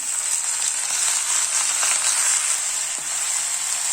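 Soaked, drained basmati rice being mixed into a pan of vegetable pulao, giving a continuous loud sizzle and hiss with faint scraping stirs and a soft knock near the end, with no talking.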